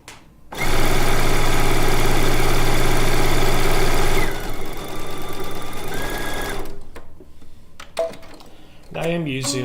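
A sewing machine runs fast and steady while quilt pieces are sewn together with 50 weight gray thread, a loud whirring buzz for a few seconds, then a slower stretch before it stops and a voice briefly speaks.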